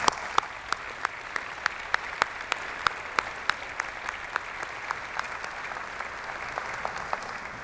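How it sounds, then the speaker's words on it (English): A graduation ceremony audience applauds steadily, a continuous wash of clapping from a large crowd with a few sharper claps standing out, no voices over it. "please join me in giving them a round of applause."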